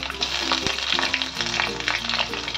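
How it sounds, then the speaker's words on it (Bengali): Diced potatoes fry in hot mustard oil with a steady close crackle and sizzle. Occasional stirring scrapes and soft knocks sound over it, and no one speaks. "সর্ষের তেলটা গরম হওয়ার পর আমার যে চৌকো চৌকোভাবে আলুগুলো কাটা ছিল সেই আলুগুলোকে আমি ফ্রাই হওয়ার জন্য দিয়ে দিচ্ছি।"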